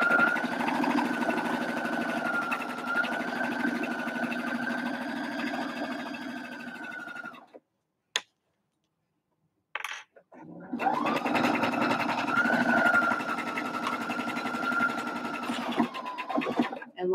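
A sewing machine runs steadily while stitching a cinch bag, drops out briefly as the presser foot is lifted and the fabric adjusted, then resumes sewing at the same even pace.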